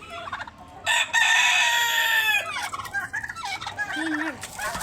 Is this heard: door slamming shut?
no